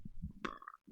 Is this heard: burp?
yes